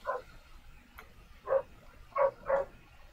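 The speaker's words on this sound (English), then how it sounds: "Somebody's doggo's barking." A dog barks outdoors at a distance, a single early bark followed by three more spaced over a few seconds, faint against a quiet background.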